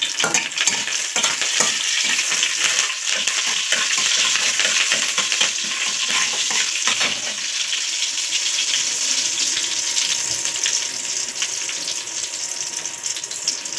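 Cumin seeds and curry leaves fry in oil and butter for a paneer butter masala, giving a steady close hiss of sizzling with busy stirring scrapes through the first half that ease off later.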